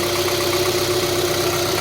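A steady, even idle from a 2011 Kia Forte LPi engine with 140,000 km on it, running in cold winter with slightly elevated RPM; close, constant hum with faint rhythmic pulsing and no talk.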